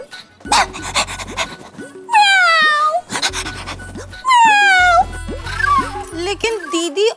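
A woman imitates a dog, producing rapid rhythmic panting bursts mixed with whiny, meow-like vocal cries, loud and close, repeated several times across the stretch.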